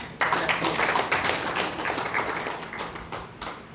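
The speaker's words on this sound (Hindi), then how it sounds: "तालियों से स्वागत कर दें।" Attendees at a trade union gathering clap in welcome, a brisk burst of many hands that starts sharply and carries on fairly loud before thinning toward the end.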